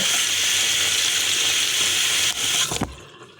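Running tap water rinsing a makeup brush, a steady loud hiss of flowing water that continues for a few seconds before being shut off with a brief splash and clunk.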